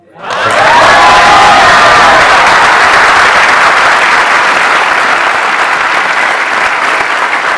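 A stage audience bursts into sustained applause mixed with cheering and shouts, loud and dense from start to finish, with no talk over it.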